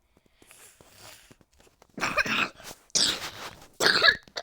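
Three close bursts of hoarse coughing from someone with a cold, loud and near, following a quieter stretch of faint background murmur.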